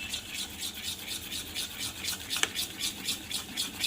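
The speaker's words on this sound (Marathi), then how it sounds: "आणि पटकन असं आपण मिक्स करून घेऊया चांगलं बॅटर ते फुलेपर्यंत." Dhokla idli batter with Eno is whisked quickly in a bowl, giving a close, rhythmic scraping and stirring swish in regular strokes, with no voices.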